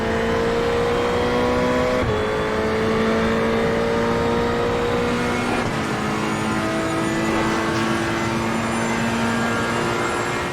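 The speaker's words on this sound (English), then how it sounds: "There's the standard array of diff whines, engine roars, transmission clunks, underbody thunks, curb ripples, and everything else" Race car engines in the iRacing sim roar continuously with steady sustained tones, shifting pitch at gear changes around two and six seconds, loud and unbroken throughout with no talk.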